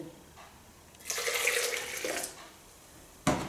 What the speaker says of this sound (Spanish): Le vamos a poner tantita agua caliente.